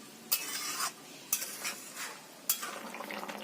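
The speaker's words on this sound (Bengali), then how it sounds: "পাঁপড়গুলোই ফুটন্ত ঝোলের মধ্যে দিয়ে দেব এবার হালকা হাতে নাড়িয়ে নিতে হবে" Papad pieces being stirred into boiling curry give three distinct scraping spoon strokes against the pot, each followed by a brief bubbling sizzle, heard up close without voices.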